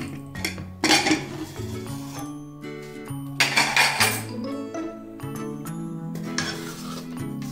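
Metal pots and lids clank and clink in bursts as a pressure cooker of wheat daliya is opened after its pressure is released and handled, with scraping and a low background hum.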